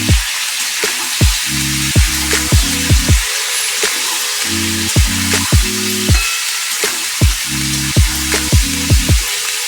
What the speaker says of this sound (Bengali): সবজিগুলোকে ভালো করে একটু ভেজে নিলাম।